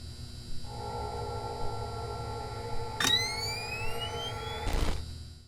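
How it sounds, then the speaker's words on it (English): A steady electronic hum from the Old Candy animatronic in the Five Nights at Candy's video game, a loud tonal drone with rising sweeping chirps and static bursts partway through. "you can determine their location by their loud, distinct humming noise"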